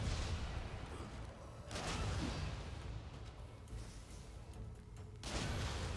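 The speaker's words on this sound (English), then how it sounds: "I'm going to try and take these out down here, ideally with the rifle." Rifle shots in the Nioh 2 video game, three sharp, loud reports spaced a couple of seconds apart over a rumbling background.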